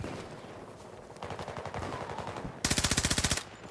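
Suppressed gunfire in Battlefield 2042 rattles off in rapid bursts, a shorter stuttering string followed by a louder, tightly spaced automatic burst of about a dozen shots.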